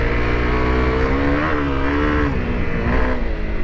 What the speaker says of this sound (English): the bike doesn't have enough power to really like wheelie the front over little rises and stuff like that